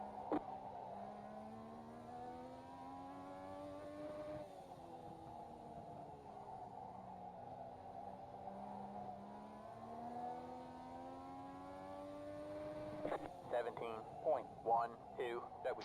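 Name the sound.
Legends race car engine in iRacing video game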